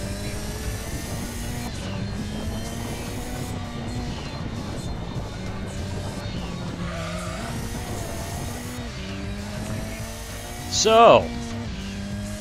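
Engine drone of a rally car in Gran Turismo 2 runs steadily throughout, its pitch rising and falling with gear changes, with a short tire squeal near the end while someone talks over it.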